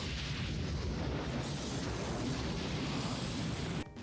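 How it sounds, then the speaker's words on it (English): Grenade explosion in a movie scene, a dense roaring blast with rumbling debris that stays loud for nearly four seconds and then cuts off abruptly. "Grenades go off pretty fast."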